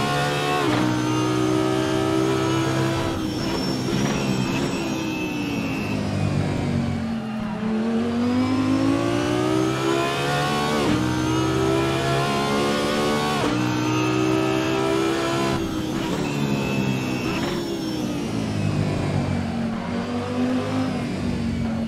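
Audi R8 LMS GT3 race car engine at Misano in a racing video game, a loud continuous roar rising and falling through repeated gear changes and revs, with brief dips as the car brakes and accelerates again.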